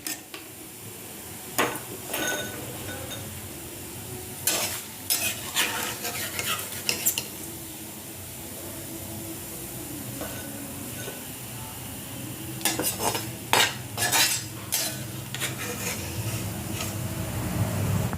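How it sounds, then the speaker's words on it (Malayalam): Metal spoon scraping and clinking against a pan in bursts, over a steady low sizzle of coconut pieces frying in ghee. "നാളികേരക്കൊത്താണ് ഇത് നെയ്യിലിട്ട് വറുക്കണം"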